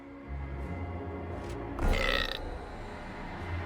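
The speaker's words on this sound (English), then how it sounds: "The hellhole rewarded the sacrifice of a live hero with a respectable burp." A demonic hellhole in the Dungeon 3 video game lets out a deep, gurgling burp, a single loud belch that swells over a low rumbling game backdrop.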